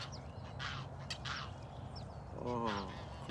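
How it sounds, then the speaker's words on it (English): Duck-like bird calls outdoors on a morning, a few short quacking notes over steady background noise, with a clearer harmonic call near the end. "Birds are out today."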